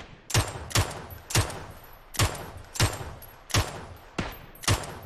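Gunfire in a shooter video game, with eight or nine evenly spaced single shots cracking out at a steady rhythm, each sharp and punchy with a short tail, and no talking.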